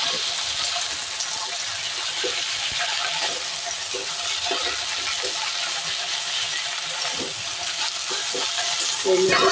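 Bottle gourd leaves frying in a pan, a continuous bright sizzle with scattered soft scrapes and clinks of a spatula stirring, close and steady throughout, with no talk.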